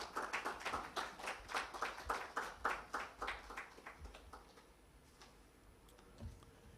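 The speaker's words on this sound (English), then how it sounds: "Please, another round of applause" Small audience at a logo and website launch event giving a round of sparse applause, a few distinct rhythmic claps that thin out and fade after about four seconds, faint and somewhat distant.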